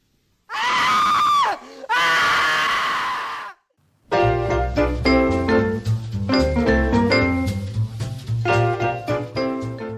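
Two long, loud, high screams from people in a movie theater give way after a brief gap to dense, rhythmic dramatic music with sharp percussive hits.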